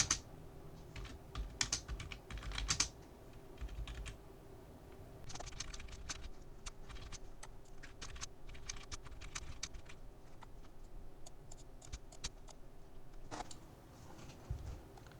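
Rapid keystrokes on a computer keyboard in bursts and short pauses, close and fairly quiet, as notes are typed into an engineering drawing of a toolmaker's vice.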